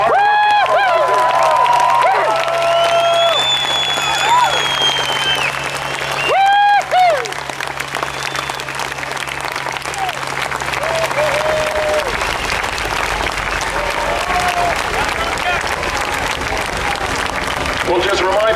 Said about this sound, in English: give a rip-roaring round of applause for all the hard work